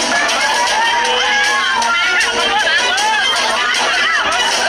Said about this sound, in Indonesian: Agus Buntung mendapat sorakan dari para emak-emak dan para wanita muda